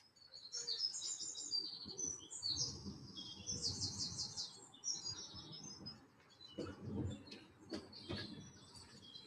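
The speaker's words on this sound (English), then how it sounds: "look at the birds" Birds chirp and tweet steadily in a garden green space, with bright overlapping calls throughout and a soft low rumble of wind or distant traffic underneath.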